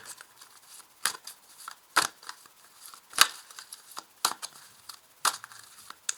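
Tarot cards are shuffled and drawn during a reading, giving quick papery snaps and rustles at irregular intervals, each a short crisp burst separated by quieter shuffling, close and fairly soft.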